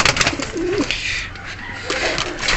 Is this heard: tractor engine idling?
no